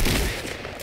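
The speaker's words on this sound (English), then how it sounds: "Are you shooting?" A brief, loud burst of rapid gunfire from the Fortnite Battle Royale video game, under a second long and heard alone.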